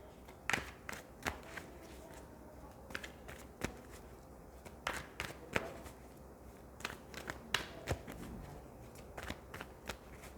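A deck of cards is shuffled for a spiritual guidance reading, with repeated crisp riffles and flicking bursts in an uneven rhythm, close and clear, with no talking.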